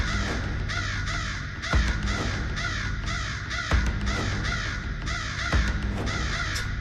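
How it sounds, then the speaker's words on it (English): In the video game The Stanley Parable, crows call repeatedly, harsh caws rising over a constant low ambient hum, with a few heavier thuds at intervals. "Sure, this is the crow calls."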